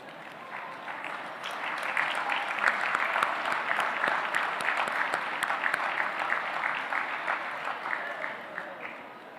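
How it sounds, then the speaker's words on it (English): Graduates at a college convocation ceremony give a sustained round of applause to their support crew, a dense, steady clapping from a large crowd that rises and holds for several seconds. "give them a round of applause"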